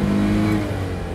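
Citroen 2CV engine coasting while driving, a steady low mid-pitched drone that sits loud and close before easing slightly lower in level toward the end, with no voices over it.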